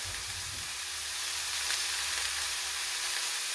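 Ground beef sizzles steadily in a hot pan for enchiladas, with a continuous crackling hiss and occasional small pops, close up and without any talking.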